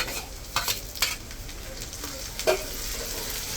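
Spices hit hot oil for chicken biryani, giving a loud continuous sizzle broken by several scraping strokes of stirring.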